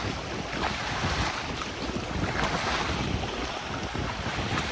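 Strong wind sweeps across Dolomite Beach on Manila Bay, a loud, constant gusting roar that buffets the microphone, with the wash of surf underneath.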